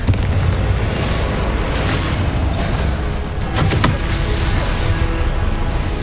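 A Confringo blasting curse explodes in Hogwarts Legacy amid a loud, dense wash of rumbling booms and crackling magical combat, with a couple of sharper bursts partway through and no pauses.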